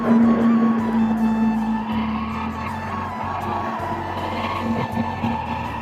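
Motorbike riding along a road on the way to a village home in Comilla, with a steady engine drone and hum and constant wind rush that stay loud throughout.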